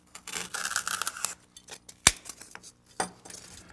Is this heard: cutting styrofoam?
yes